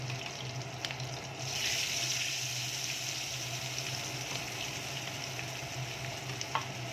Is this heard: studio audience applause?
no